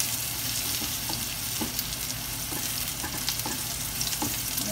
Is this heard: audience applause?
no